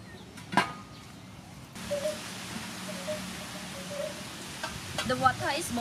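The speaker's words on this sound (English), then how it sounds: "the water is boiling" A soft, steady bubbling hiss of water boiling in a soup pot with soybean oil and chopped garlic, with a few clinks and clatters of utensils near the start and end.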